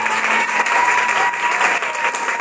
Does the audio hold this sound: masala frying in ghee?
no